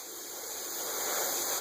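Steady airbrush hiss as base color paint is sprayed onto a bluegill skin mount, a continuous close spray with no talk, ending abruptly near the finish.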